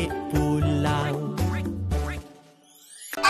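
A duck quacks in a children's story, a series of about four loud, nasal quacks in quick succession, close and alone with no talk over them.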